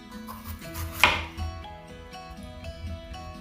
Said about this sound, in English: So we have to cut into fine strips.